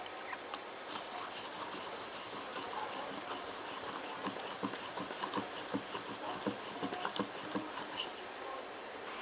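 A knife being sharpened, a soft, quiet rasping scrape repeated in uneven strokes close by, with faint room noise.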